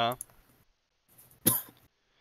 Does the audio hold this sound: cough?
yes